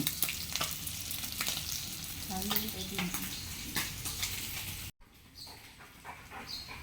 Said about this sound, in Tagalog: Nagprito og galunggong